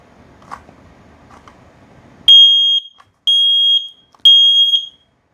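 A Kidde i9010 ten-year smoke detector sounds its press-to-test alarm, giving three loud, piercing electronic beeps of about half a second each, evenly spaced, after a few quiet handling clicks.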